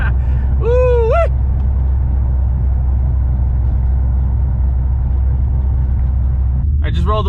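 A Pontiac GTO idles with an open 4-inch exhaust pipe and no muffler, a loud, deep, steady rumble throughout, with brief voices breaking in near the start and end.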